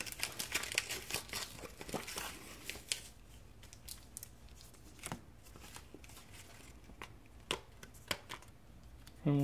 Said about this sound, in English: These blister packs are a pain in the butt